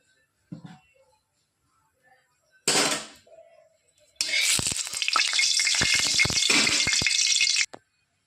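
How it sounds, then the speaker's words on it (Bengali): An egg drops into hot white oil in a wok with a sudden loud burst, then a dense, steady sizzle and crackle follows for a few seconds before cutting off, after a few quiet clinks and taps. "প্রথমে ডিমটা ভেজে নেব।"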